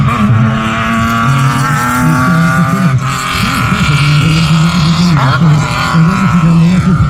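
BMW rally car competing at the Rally Barbados finale, its engine droning loudly and steadily throughout with shifting revs, a continuous close roar with no pauses.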